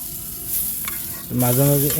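Pointed gourd frying in hot oil for a mashed dish, a steady loud sizzle joined partway through by a louder, bubbling burst of frying.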